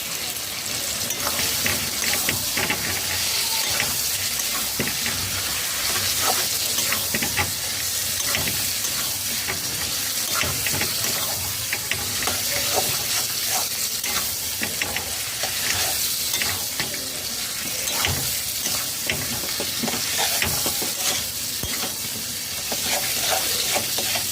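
New potatoes and Kashmiri chilli frying in a pan over high flame, a dense, continuous loud sizzle with scraping stirs throughout and no speech.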